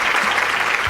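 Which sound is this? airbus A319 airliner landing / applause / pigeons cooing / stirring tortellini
applause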